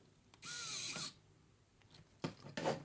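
Small nuts are tightened on a DIY model kit, with a sustained scraping burst early on and a few sharper clicks and rasps near the end. The sounds are close and moderately loud, and nobody speaks.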